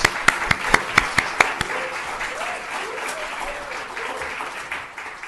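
An audience welcomes Dr. Armstrong to a child development center event with loud, sustained applause, a few sharp claps at the start, then the clapping slowly fades.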